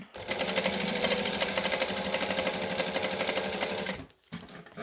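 A sewing machine top stitches a fabric clutch in one steady, loud, fast mechanical run that stops abruptly near the end, followed by a short quiet gap and a brief restart.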